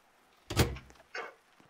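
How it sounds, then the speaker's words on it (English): A door in the Roblox game Flee the Facility shuts with a single heavy thunk, then a softer second knock follows a moment later, both close and clear against near silence. "No, I shut the door."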